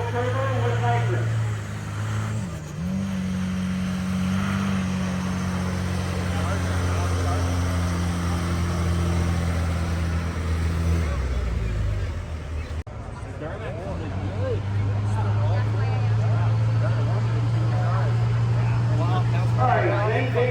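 A 2006 Dodge Cummins diesel truck with a single turbo and nitrous pulls a sled, its engine a loud, sustained low drone that dips briefly midway then surges back, with crowd noise underneath.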